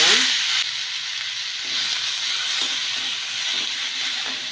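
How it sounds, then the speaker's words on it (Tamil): Chopped tomatoes sizzle and fry steadily in a pan for a Chettinad green pepper curry, a continuous bright hissing crackle at close range with no talk. "அடுத்ததாக நறுக்கி விட்டு தக்காளி சேர்த்துக்கலாம்"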